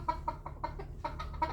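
Harsh, repeated squawking calls of fighting roosters being crated, about six sharp cries in quick succession over a low steady hum.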